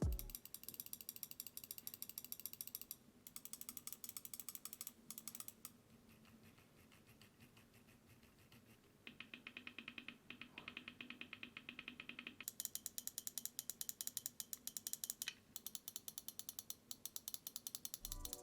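Rapid bursts of crisp clicks from a HyperX Pulsefire Haste gaming mouse, its buttons and scroll wheel ratcheting in quick, even runs with short pauses, close and clear with no talk.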